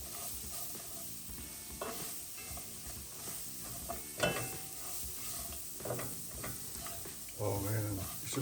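Cabbage for Jamaican curry cabbage is mixed into frying garlic and onions with a bay leaf, giving a low sizzle and hiss under intermittent scraping stirs and a few louder clanks against the pot.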